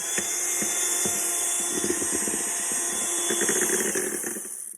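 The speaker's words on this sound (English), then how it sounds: "I'm going to use this really loud whisk" A loud electric whisk beats eggs for pavlova with a continuous high whine and a motor hum, plus irregular rattling knocks of the beaters against the bowl, all with no talking.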